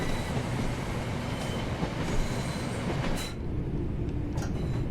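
Simulated train running on the Birmingham Cross City Line in a driving game, a steady continuous rolling rumble with faint rail hiss, holding level throughout without a break.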